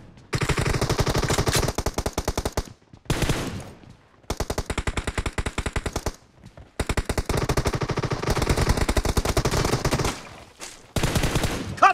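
Loud sustained bursts of automatic gunfire in a mobile shooter game, several long rattling strings of rapid shots separated by brief pauses, near and dominant with almost no talk.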